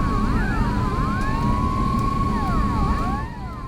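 An ambulance siren at the Chernobyl nuclear plant site, loud and close, its wailing tone sweeping up and down repeatedly with a steady pitched whine running underneath.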